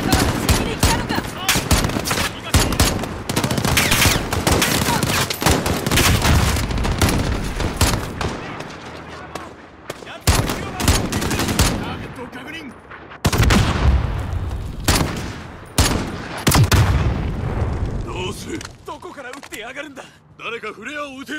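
Dense, loud gunfire from the military shooter Call of Duty: Modern Warfare, with sustained automatic bursts and booming shots nearly nonstop for about 20 seconds, broken by short gaps and thinning toward the end, with game voices mixed in.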